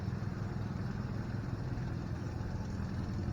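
An Oliver 2255 tractor engine idles at an outdoor tractor show, a steady low rumble that holds evenly throughout with no talking over it.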